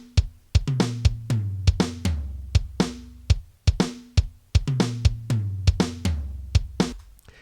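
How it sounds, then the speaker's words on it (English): Dry drum samples play one after another: a punchy kick and three toms, each a sharp hit with a short decay. The hits fall in a steady sequence, up close and free of room ambience, with no talking. "I've got the dry sounds, which are kick and three toms, tom 1, tom 2, and tom 3."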